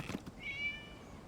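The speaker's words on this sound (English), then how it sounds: "It was just a cat." A cat in Genshin Impact gives a single short, clear meow with a rising then level pitch, close by and alone over faint background ambience.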